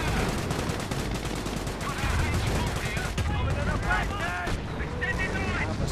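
Dense, continuous gunfire rattles between infantry squads in a World War II strategy game, with overlapping bursts and a loud battlefield din throughout.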